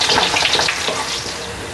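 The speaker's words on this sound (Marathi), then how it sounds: "आता लसूण लालसर होतं, सगळं चांगलं व्यवस्थित भाजलं पाहिजे" Garlic roasts in a pan for Kolhapuri bhadang, a dense, close, continuous crackling sizzle that stays loud and even through the short moment.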